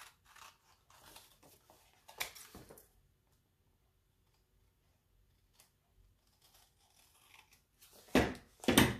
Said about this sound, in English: all we do is we trim this around the edge